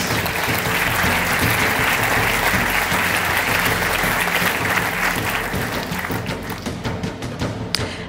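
An audience at a French business award ceremony gives a sustained round of applause. The dense, loud clapping fills the room, then thins out toward the end, leaving a few scattered claps.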